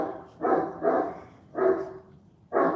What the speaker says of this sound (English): Sounds like a big dog.